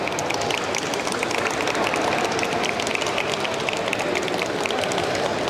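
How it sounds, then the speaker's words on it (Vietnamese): An audience at a dog show for breeds such as Maltese, Poodle and Pug claps enthusiastically in a dense, steady burst of applause that fills the whole stretch without pause. "vỗ tay rất nhiệt tình"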